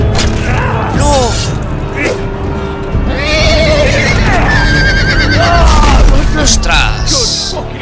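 A horse whinnies repeatedly amid clattering hooves and booming impacts in the Telltale Game of Thrones video game, loud and close, with a player shouting excitedly over the action.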